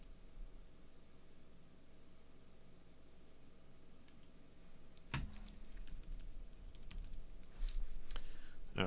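Computer keyboard typing during a coding session: a near-silent hum gives way around the midpoint to a run of crisp, irregular keystroke clicks, loud and close, with no talking.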